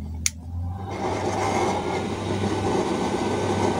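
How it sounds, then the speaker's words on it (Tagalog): A blower with a redesigned 12-hole top nozzle for a 6-inch chamber runs after a sharp click, building into a loud, steady, rushing roar up close with no voices. "subukan natin itong blower natin"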